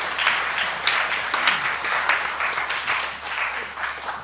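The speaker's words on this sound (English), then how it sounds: "Nice round of applause for our AV people tonight." Audience applause for the sound and video crew at a high school holiday band concert, a steady, fairly close wash of many hands clapping that holds evenly for several seconds with no talk over it.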